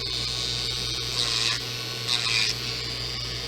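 Electric nail drill filing nails while applying dipping powder, a steady high whine running throughout, with a mains-like low hum beneath and two brief louder surges where the bit bites harder.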